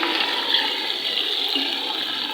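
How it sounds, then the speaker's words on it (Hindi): Water is poured into a cooking pan of yogurt and minced mutton for aloo keema. A steady, close rushing splash runs evenly without pause, with no voices over it. "और इसके अंदर अब मैं शामिल करने लगी हूँ थोड़ा सा पानी"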